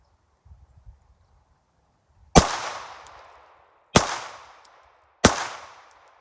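Three sharp gunshots fired one at a time at a target 3 yards away, each a loud crack with a ringing decay, spaced about 1.5 seconds apart after a few faint handling noises.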